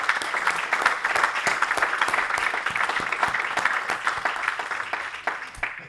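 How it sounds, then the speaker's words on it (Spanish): An event audience applauds the team at a panel discussion, a steady, full crowd clapping throughout that fades slightly at the end. "incluso pediría a la audiencia un gran aplauso a este gran equipo"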